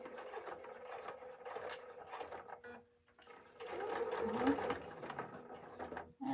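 A sewing machine backstitches a reversible cloth face mask, running in a fast, steady mechanical whir, pausing briefly as it reverses, then stitching again before a short stop near the end.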